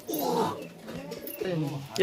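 Big-size Kaldum pigeons in a loft give low, rolling coos in two or three close bursts, with people talking over and around them.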